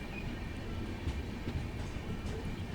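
An Indian passenger train, the Indore–Kota Ranthambhore Express, rolls into Vikramgarh Alot railway station, heard as a faint, steady rumble of moving railcars with light rattling and no voices.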